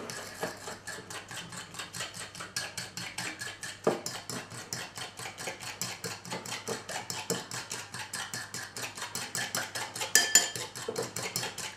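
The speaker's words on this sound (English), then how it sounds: "whisking as you go." Batter whisked by hand in a bowl for rainbow trout curry, a fast, even run of close rhythmic clicking and tapping strokes that continues throughout, with no voices.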